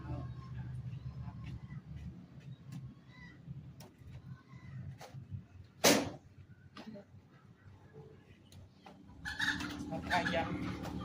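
Chickens cluck and squawk intermittently, close and fairly loud, with sharp bursts and a louder flurry near the end over a low background murmur.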